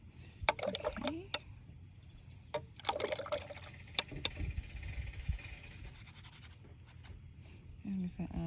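Water being added to watercolor paint, faint trickles and small splashes with brush taps on a palette, coming in short bursts.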